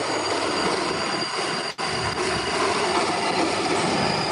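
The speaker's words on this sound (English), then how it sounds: "And there's a train again." A train rolls past on the tracks in Brooklyn, giving a steady, loud broadband rumble with wheel noise throughout and one brief dip partway, with no talking.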